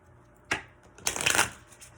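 A big deck of tarot cards shuffled close by: one short flick, then a longer crisp riffling burst lasting about half a second, faint and quiet in a calm room.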